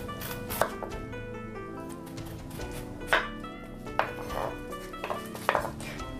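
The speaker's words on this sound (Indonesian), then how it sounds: "ini kentang enak banget. Lalu saya potong-potong" A knife cutting potatoes into pieces on a board makes a handful of sharp, irregularly spaced chops, close and distinct against a quiet kitchen background.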